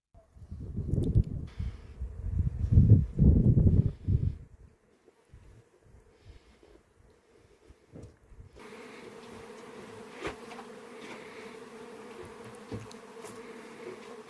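Honeybees buzz around hives set on the slopes of Türk Mountain in Sincik district, where keepers produce organic honey: a loud, close, wavering drone for the first few seconds, then a fainter steady hum mixed with wind.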